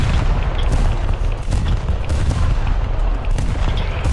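Tank gunfire in the video game War Thunder: a dense, continuous barrage of booming shots and rapid fire, loud and close throughout, with no voice.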